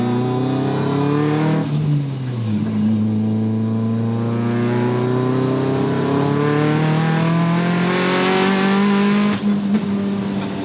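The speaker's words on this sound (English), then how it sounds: "Oh, backfire." A Nissan 240SX engine revs loudly and steadily with rising and falling pitch, with a sharp exhaust pop near the start and another brief crack near the end.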